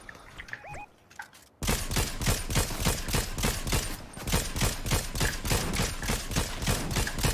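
Rapid gunfire in the video game Fortnite, loud bursts of close shots firing in a steady, fast rhythm for most of the stretch after a brief quieter lead-in.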